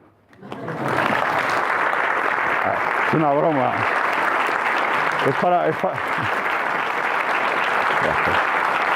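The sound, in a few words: audience applause after a lecture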